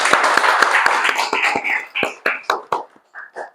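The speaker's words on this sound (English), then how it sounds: "Big round of applause, everyone." A small audience at an open mic event clapping, a few hands giving sharp, uneven claps that thin out and fade to scattered final claps.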